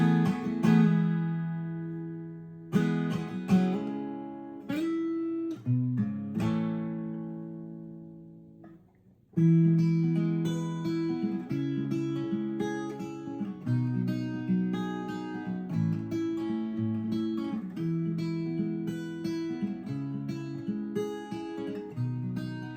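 Capo-fitted acoustic guitar playing the intro of a song, opening with a few ringing strummed chords that fade, then a steady stretch of picked notes, close and clear with no voices.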